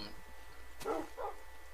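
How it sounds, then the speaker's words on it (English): A dog in the Minecraft video game gives two short barks in quick succession over a faint background hum. "What's that? That's a dog."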